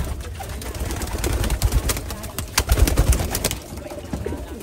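Pigeons coo in low, throaty bursts close by, several birds overlapping with soft fluttering and rustling around them.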